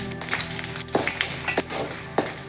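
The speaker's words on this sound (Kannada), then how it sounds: "ಎಣ್ಣೆ ಕಾದಿರೋ ಎಣ್ಣೆಗೆ ಈಗ ಈ ಮಸಾಲೆಗಳನ್ನ ಹಾಕೋತಾ ಇದ್ದೀನಿ" Spices dropped into very hot oil fry with loud bursting crackles and spits over a continuous sizzle, several sharp pops in an uneven rhythm, no voices.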